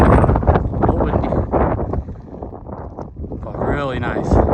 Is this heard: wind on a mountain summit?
yes